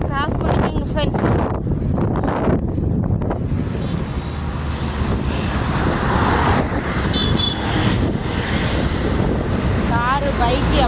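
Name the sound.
busy road traffic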